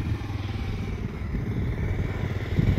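A motorbike on a rural road near the Tyamke view tower, its mid-pitched engine droning steadily and growing slightly louder toward the end, with some rattling clatter, close by and without talk.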